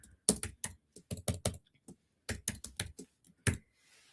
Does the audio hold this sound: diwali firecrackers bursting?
no